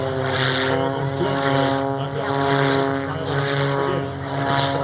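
A propeller aircraft drones loudly and steadily as it climbs to altitude, its engine tone holding strong with slight swells as it powers along.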